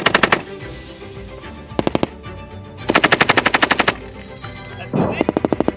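Machine guns fire on an outdoor Marine Corps training range at Camp Fuji. Loud, close bursts of rapid automatic shots are separated by short pauses, and each burst echoes across open ground.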